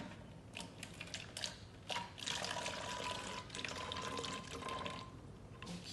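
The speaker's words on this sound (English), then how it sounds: "So we have our water here. Filling it." Water pours steadily into bottles for a children's color-learning play activity, a close, continuous splashing gurgle that swells and shifts in pitch as the bottles fill, with no voices.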